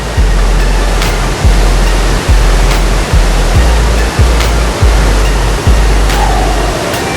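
Lucia Falls on the Lewis River roars as a loud, steady, full-bodied rush of falling water, close and continuous with no voices.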